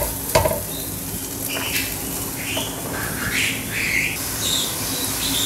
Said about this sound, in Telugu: బటర్ వేసిన వెంటనే ఈ ఉల్లిపాయలు వేసేయాలి. ఇది కొంచెం ఈ బటర్లో వేగాలన్నమాట.